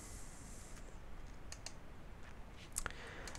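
Sharp, faint computer mouse clicks while working in Photoshop, a few isolated ticks around the middle and end over a quiet background hiss.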